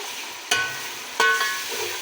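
Masala frying in a pot for vegetable tahiri, with two sharp spoon knocks against the pot over a low, steady sizzle heard up close.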